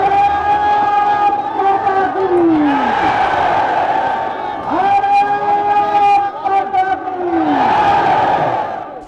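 A large crowd of anti-corruption protesters gathered at Ramlila Maidan roars and chants in loud, surging waves, voices rising together every few seconds over a continuous dense hubbub of cheering and shouting.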